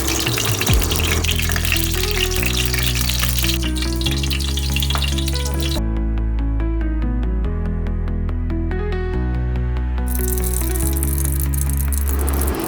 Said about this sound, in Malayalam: ഇനി പാൻ ചൂടാക്കി എണ്ണ ഒഴിച്ച് കുറച്ച് ബട്ടറും ചേർത്ത് നമുക്ക് കടുകും ജീരകവും